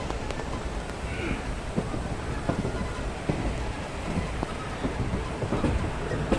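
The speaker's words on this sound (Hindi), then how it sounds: "ट्रेन जा रही है हमारी, ये देखिए कासगंज की तरफ।" Interior of a passenger train heading toward Kasganj, with steady rolling rumble and faint rhythmic wheel clicks at moderate level, occasional sharper knocks, and talking over it.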